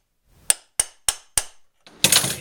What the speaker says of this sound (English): you can take your pipe and a hammer, just like this, and give it a couple good knocks.